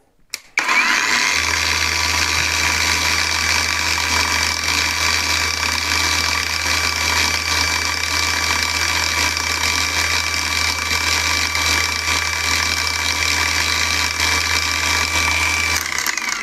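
A Heimerdinger LB168 cordless angle grinder switches on and runs at a steady high speed, a loud, constant motor whine that holds for about fifteen seconds, alone, before cutting off.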